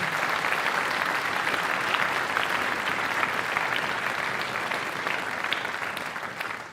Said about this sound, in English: can we have a round of applause for Joe and all that he does for the music department here?